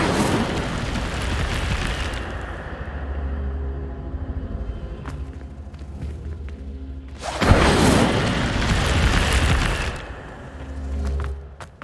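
Incendio fire spells from Hogwarts Legacy erupt in two loud roaring whooshes, one at the start and a stronger one later, each leaving a rumbling low tail between quieter stretches.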